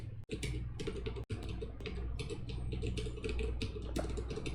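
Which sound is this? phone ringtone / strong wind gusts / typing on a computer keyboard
typing on a computer keyboard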